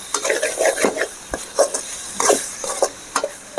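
Mutton ghee roast with garam masala and pepper being sautéed in a pan: close, irregular scraping stirs and clinks of a spoon against the pan over a soft sizzle, with no talk.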